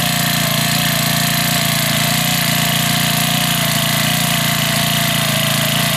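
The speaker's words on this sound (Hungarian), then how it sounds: "Így indul egy japán motor." The small two-stroke petrol engine of a Makita EVH2000 backpack pesticide sprayer, freshly fuelled, runs close and loud with a constant buzzing drone and strong vibration, unbroken throughout.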